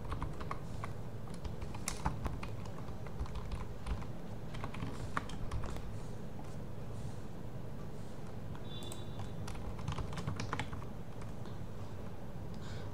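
Steady typing on a computer keyboard, dense clicking keystrokes running continuously for about thirteen seconds, close and fairly even in level with no voice over it.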